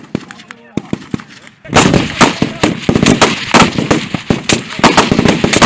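Gunfire on a shooting drill range: a few scattered shots, then dense, loud rapid bursts of rifle fire that continue nonstop, with faint shouting in the background.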